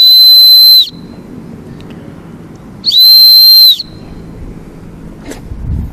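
A shrill whistle built into a camping shovel is blown loudly twice, each blast close and piercing for about a second, with quiet handling noise between them.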